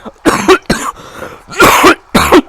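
A person coughs four times in short, harsh bursts, close and loud, with a throat-clearing quality and brief pauses between.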